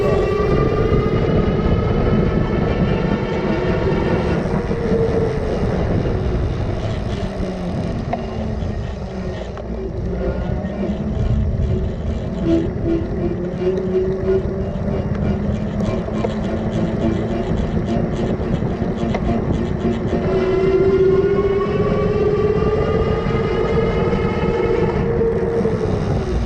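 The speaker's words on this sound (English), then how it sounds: "You can also hear the motor starting and stopping and just kind of get an idea of how loud this" An AddMotoR MOTAN M-60 electric bike's motor whines loudly and continuously while the rider pedals, its pitch rising and falling as the motor spins up and eases off, over steady road and wind noise.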